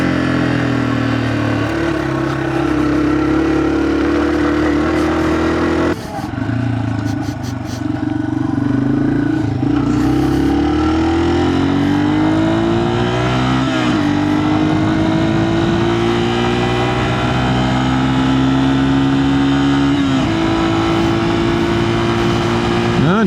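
A Yamaha TW200 motorcycle climbs a grade, its single-cylinder engine droning steadily and rising in pitch as the rider pushes the revs, with brief gear-change dips along the way.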